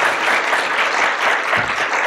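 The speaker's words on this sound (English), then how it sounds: "Round of applause for the candidates." Audience at a town candidates forum applauding the candidates, a dense continuous burst of clapping from a close crowd.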